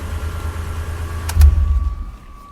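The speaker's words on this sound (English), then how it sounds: "And let's stop the engine." A 2004 Mitsubishi Pajero GDI engine idles low and faint, then gets a brief clicking jolt and a short rumble as it shuts off, settling into quieter near-silence with a faint steady whine.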